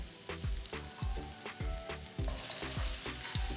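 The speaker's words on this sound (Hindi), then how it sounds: "मैंने पैन में हाफ कप तकरीबन ऑयल डाला है और इसमें मैं अब 1 टीस्पून जिंजर डालूंगी फ्रेश और 1 टीस्पून गार्लिक डालूंगी" Fresh ginger and garlic fry in about half a cup of oil in a pan, a steady crackling sizzle punctuated by rhythmic spatula strokes roughly every half second.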